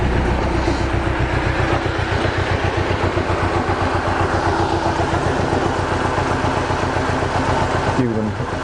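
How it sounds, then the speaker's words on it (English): A Mercedes 190E with an M102 engine, just back running after a fuel pump change, idles steadily as it warms up, giving a loud continuous rumble with a regular low pulsing and a short shift near the end. "let the engine warm up and see what happens after."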